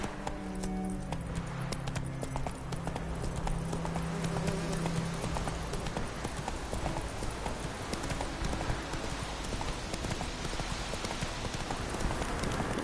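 A horse gallops steadily in the video game The Witcher 3, its hoofbeats a continuous rapid clip-clop over loud game ambience and music from start to finish.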